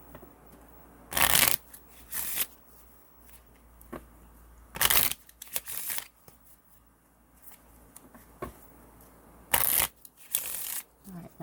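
Tarot cards are shuffled in several quick, crisp riffling bursts, each about half a second long. Quiet pauses and low background sound fall between them.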